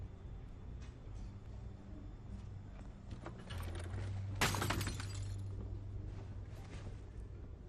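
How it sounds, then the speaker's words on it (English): A glass-framed family picture is smashed in the Batman Telltale video game, a single sharp shattering crash over a low background hum, with tinkling debris trailing off afterward. "That's probably a family picture that they've just smashed."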